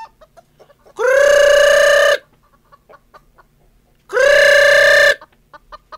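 Chickens on a farm give two loud, drawn-out calls a few seconds apart, with faint clucks and scratching between them.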